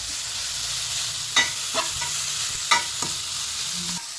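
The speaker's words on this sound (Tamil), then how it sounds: "தூள் உப்பு போட்டு காயிலே வதக்கும் போது அந்த காயில் நல்லா உப்பு இருக்கும்" Vegetables sautéing with salt in a pan for ragi bun dosa give a steady close sizzle, broken by a few sharp scraping stirs of a spoon against the metal.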